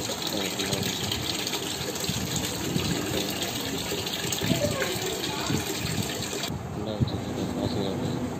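Water gushes steadily into a washing machine under repair as it fills. The rush is loud and continuous throughout, with a change in tone near the end.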